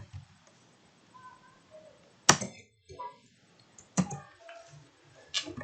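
Sparse clicks and taps of typing on a computer keyboard, close and fairly quiet, with short gaps and faint background between keystrokes.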